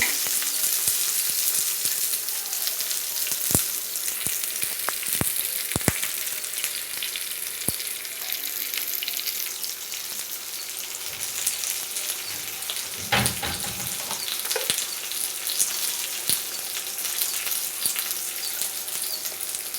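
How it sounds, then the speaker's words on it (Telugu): Onions and curry leaves fry in a pan with a continuous hissing sizzle, punctuated by occasional sharp pops and a brief burst of stirring or scraping partway through; no one speaks. "ఆనియన్స్ కరివేపాకు కూడా వేసేసుకోండి"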